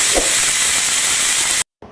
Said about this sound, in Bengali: প্রেশার কুকারে দিয়ে পানি ঢেলে দিব পরিমাণ মতো তারপর একটা সিটি দিয়ে দিব আমরা